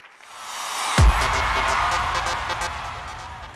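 Audience at a live music show in a theatre applauding a performer, a sudden burst of clapping that starts abruptly and carries on as a dense, steady wash.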